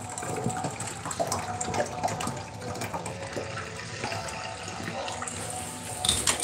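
Water runs steadily from a tap, a continuous splashing flow with some clatter and handling noise nearby, without voices.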